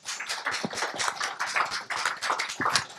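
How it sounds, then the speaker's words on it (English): An audience applauds after a talk, with a few seconds of steady, close clapping that rises and falls in waves. "I want a very big applause for Oleg."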